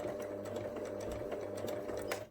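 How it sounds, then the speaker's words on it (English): A domestic sewing machine runs a short burst of reverse stitches through fabric, a steady close mechanical whirring hum with rapid needle clatter, stopping abruptly at the end. "Let's put the needle down into the fabric, do a couple of reverse stitches,"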